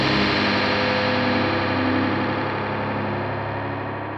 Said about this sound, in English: I really like the Memory Man with Hazarai because you can make a bunch of presets. Like this goofy one.